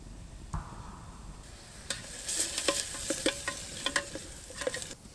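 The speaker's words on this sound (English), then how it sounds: "You just need to fry the onions" Onions fry in a bushpot over an outdoor campfire for a Christmas stew. The sizzle is quiet and steady, broken by a few sharper clicks and scrapes of stirring, and no one speaks.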